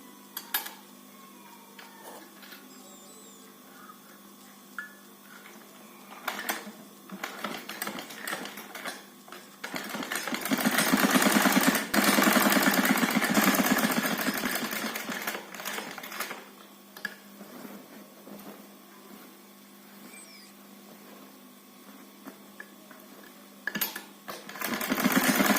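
A sewing machine stitches a design onto the neck of a kurti, running in a steady, loud whir that swells through the middle stretch, with quieter mechanical clicks and pauses on either side.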